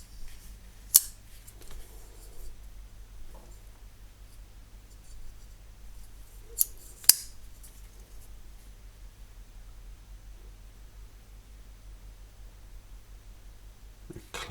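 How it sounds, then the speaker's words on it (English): Sharp metallic clicks of a Benchmade Bugout 535-3 carbon fiber folding knife with an axis lock and S90V steel blade being opened and closed, a few crisp isolated snaps close to the mic amid quiet room hiss. "Axis lock as we look at the operation as we open the blade"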